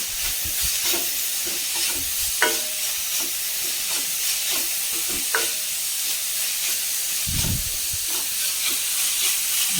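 Chopped onion and carrot sautéing in a pan for samosa filling, a steady soft sizzle with occasional stirring scrapes and clicks running throughout, no voices.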